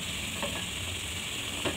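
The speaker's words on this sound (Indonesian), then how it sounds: "selalu dibolak-balik ya teman-teman, supaya tidak gosong tapenya" Fried cassava tape sizzling in hot oil while being stirred and turned in a pan, a steady close crackle with a couple of brief scraping clinks.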